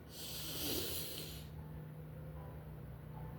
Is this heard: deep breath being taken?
yes